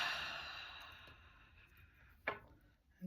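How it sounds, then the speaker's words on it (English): One long, soft exhale like a slow sigh fades over a couple of seconds during a guided relaxation, followed by a brief breathy puff and a faint inhale at the end, close and quiet. "So now I invite you to have a deep breath with me."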